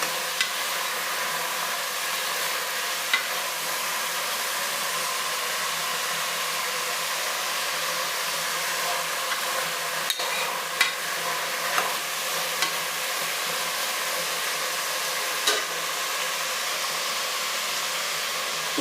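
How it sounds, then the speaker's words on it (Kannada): Spices and ground masala frying in oil in a pan, a steady loud sizzle holding evenly throughout with a few faint clicks and stirring knocks scattered over it. "ಸ್ವಲ್ಪ ಫ್ರೈ ಮಾಡ್ಕೊಳ್ಬೇಕು"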